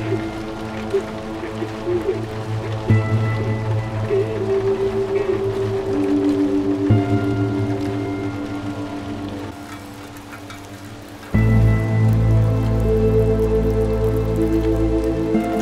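Constant heavy rain pours down in a gray post-apocalyptic short film, a steady dense hiss running throughout beneath sustained tonal sounds, with a sudden louder swell near the end.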